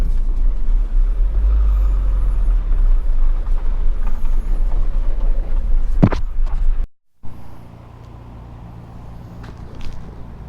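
A Toyota Supra drift car on the road heading back to the workshop, heard as a loud, steady rumble of driving noise that drops briefly before continuing more quietly.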